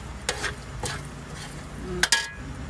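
Glutinous rice being stirred in a pan for black biko, soft scraping and occasional clinks of the utensil against the pan, a few irregular strokes over a quiet background sizzle.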